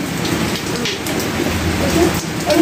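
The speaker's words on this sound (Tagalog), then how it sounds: "Maulan." Heavy rain falls steadily in a dense, continuous hiss and patter that stays loud and even throughout, with no voices.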